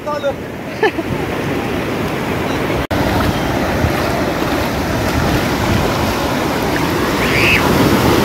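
Steady roar of surf washing onto Guhagar beach on the Konkan coast, with wind buffeting the microphone, continuous and close, with brief voices early on.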